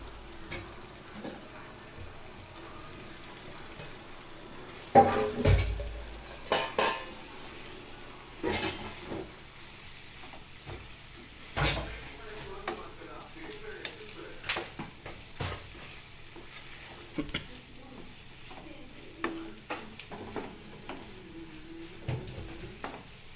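Mushrooms go into a hot pan for a homemade mushroom gravy, a soft sizzle running under scattered clanks and scrapes of stirring, with a louder knock near the start.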